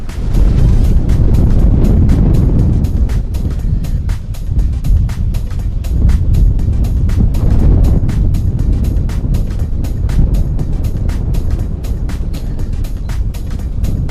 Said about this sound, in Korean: 지금 같은 경우에는 옆에서 바람이 아주 강하게 불고 있는데요